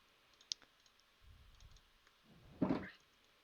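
Mouse buttons click softly: one sharp click, then a louder cluster of clicks after some low muffled handling noise, all faint and close.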